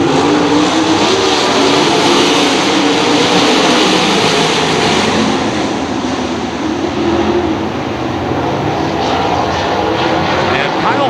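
A 2017 field of sprint cars roars past on a dirt track in a memorial race, a loud, sustained engine howl that swells and fades slightly, with an announcer talking over it.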